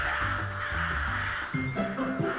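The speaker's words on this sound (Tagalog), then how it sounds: "may grupo ng maiingay na uwak" A group of crows caws repeatedly in Misamis Oriental, Philippines, harsh overlapping calls close by, with steady background noise.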